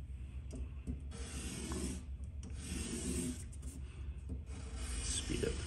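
A Mazda RX8 rotary side seal is rubbed back and forth across sandpaper, giving a steady gritty rasp in long strokes over a low hum, close and moderately loud.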